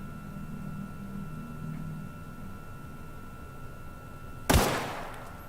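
Gunfire in The Outer Worlds video game: one sharp, loud shot with a short decaying tail breaks a quiet, steady hum near the end.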